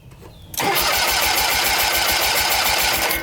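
Kohler Magnum 20hp engine on a Simplicity Sunstar riding mower cranks and fires after about half a second of quiet, then settles into a loud, steady running roar close by.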